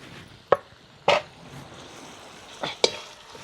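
A spatula scrapes and stirs Irani chicken in a kadai four times in sharp, separate strokes, with a faint sizzle between them.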